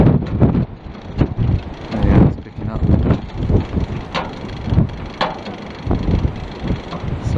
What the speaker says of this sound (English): It's definitely catching the wind.